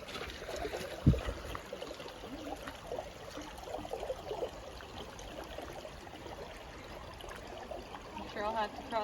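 Creek water trickling and flowing steadily at Fern Canyon in Prairie Creek Redwoods as a hiker wades in, a continuous moderate gurgling wash with a brief splashy knock near the start.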